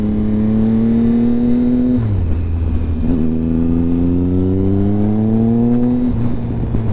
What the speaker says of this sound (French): Puis alors ce son, franchement là, le 3 cylindres avec les Arrow.